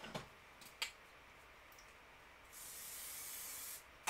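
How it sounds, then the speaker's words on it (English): A short burst from a spray can onto fabric stabilizer during sewing: a faint, close hiss lasting about a second, preceded and followed by light taps and handling clicks in a quiet room. "I'm going to give it a little shot of spray"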